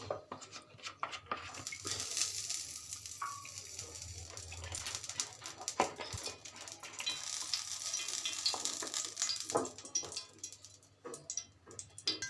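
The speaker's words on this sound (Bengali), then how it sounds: "আমার তেলটি গরম হয়ে গিয়েছে, এখন আমি চামচের মাধ্যমে দিয়ে দিচ্ছি।" Banana pitha batter, dropped in by spoon, sizzles and crackles steadily in hot oil, with scattered pops and occasional clinks of a spoon against the pan.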